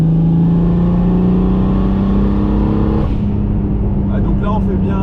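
BMW E36 325i turbo engine pulling hard at 1.5 bar boost, a loud in-car drone whose pitch climbs steadily before easing off near the end, with a voice speaking over it.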